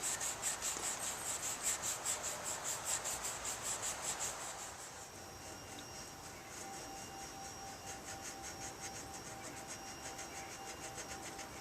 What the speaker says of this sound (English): I'll cover the whole thing in permanent marker.